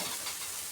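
Wheat-flour appam batter ladled into a hot oiled appam pan, giving a brief steady sizzle up close with no voices.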